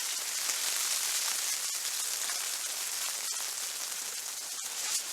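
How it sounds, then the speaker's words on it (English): Light rain mixed with snow patters on the fabric of a hot tent, a dense, steady hiss with scattered sharper drops, close and continuous, with no talk. "listen to the pitter pat of the half rain snow"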